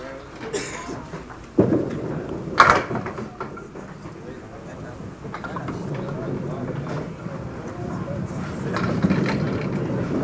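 A bowling ball slams into the pins at a televised bowling match: one sharp crash followed by scattered clatter, heard under a commentator's steady talk and crowd noise.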